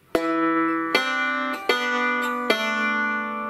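Bluegrass banjo picks a short Jingle Bells phrase, four bright plucked notes with pinched first and second strings ringing out clearly, solo with no talk.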